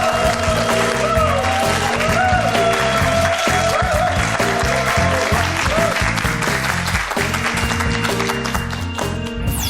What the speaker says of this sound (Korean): 여러분 뜨거운 박수로 맞아주시길 바랍니다.